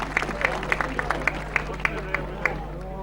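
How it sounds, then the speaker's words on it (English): A rugby league crowd at a Halifax versus Warrington match cheers and claps in a continuous roar, with sharp scattered claps standing out, while a commentator talks over it. "Big cheer going there for what surely should be a surprise result"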